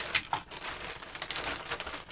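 The plastic parts bag of an Axial SMT10 RC kit crinkles close by in a build setting, with dense, irregular rustling and crackling that runs throughout at moderate level.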